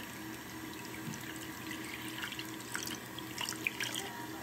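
Water runs steadily from a tap into a sink, a faint, even hiss with a few light splashy drips toward the end, and no one speaking.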